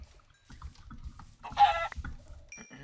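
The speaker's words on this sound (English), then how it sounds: "There's chickens everywhere." Chickens cluck in a brief, busy burst near the middle, with scattered faint fowl calls and low rustling around it in an outdoor farm-like setting.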